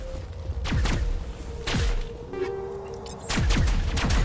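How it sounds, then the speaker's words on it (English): Gunfire in Mass Effect, heard as a few sharp, heavy shots spaced across the stretch, each followed by a short decaying thump, with a low background hum between them. "They are shooting at something."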